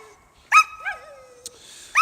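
Sled dogs on an expedition run give short yips and whimpers, a high whine sliding down in pitch between sharper bark-like bursts, close and clear against quiet.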